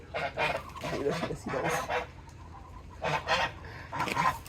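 Several loud honking calls from a flock of about fifteen ducks, including drakes, come in bursts, close by, with short pauses between groups of calls.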